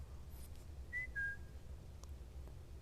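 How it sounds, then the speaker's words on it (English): A character in Splinter Cell: Double Agent on Xbox gives a short two-note whistle, with a rising tone followed by a second, slightly lower one, faint against quiet background ambience. "so we're going to whistle"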